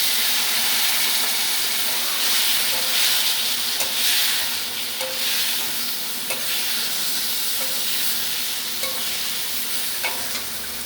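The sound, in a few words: spices being stirred and fried in a pan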